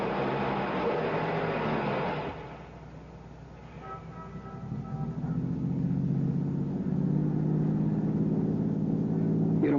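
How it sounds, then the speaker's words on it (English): A car engine starts after a brief lull, then rumbles steadily and builds as the vehicle pulls away and keeps driving, close and continuous throughout. "Start the car."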